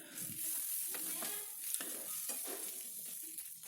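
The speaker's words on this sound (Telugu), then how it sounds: "ఇప్పుడు పసుపు వేసి కలుపుకోవాలి." A spoon stirs turmeric into a pan of frying beans curry, with soft repeated scraping strokes over a faint, low sizzle close by.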